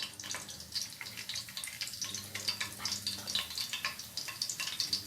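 Fennel seeds sizzle and crackle in hot oil in a pan for Tamil chicken kulambu, a dense, steady frying hiss with small pops throughout, close and fairly quiet.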